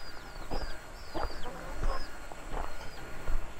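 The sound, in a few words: chickens clucking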